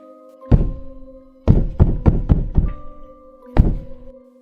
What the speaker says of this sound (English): It was a soft, rhythmic tapping, like someone gently knocking on the walls.